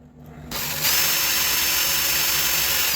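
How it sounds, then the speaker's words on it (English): A power drill spins a toothpick inside a hole during repair of a 1920s Sessions mission style clock, starting with a short burst and then settling into a loud, steady, high-pitched whir that runs without pause. "Turn on the drill."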